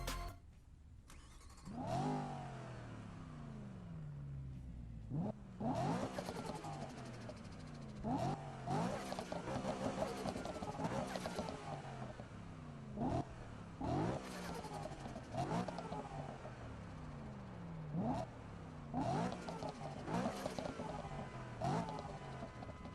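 A BMW M3 in Need for Speed 2015 driving through the streets of Ventura Bay, its engine revving hard in repeated rising pulls with gear shifts between them, loud and close throughout.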